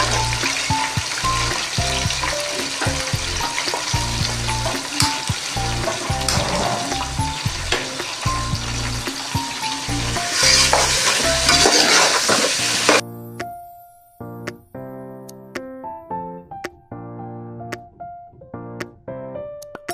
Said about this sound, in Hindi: और हम अपना चिकन डाल लें।